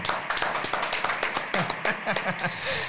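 Applause sound effect meant to suggest a huge audience of thousands, heard as a few seconds of scattered, uneven clapping with sharp individual claps rather than a dense roar, with faint voice-like sounds mixed in.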